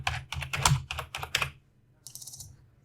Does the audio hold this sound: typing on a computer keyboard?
yes